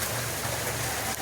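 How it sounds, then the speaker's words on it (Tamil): Heavy rain pours down in a dense, steady hiss of drops hitting surfaces, loud and continuous with no voices. "Heavy rain."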